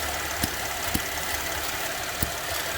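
A steady hiss of vacuum drawn at the purge tube of a Chevrolet Traverse with a stuck-open purge valve, heard close beneath a running engine's idle hum, with a few faint ticks.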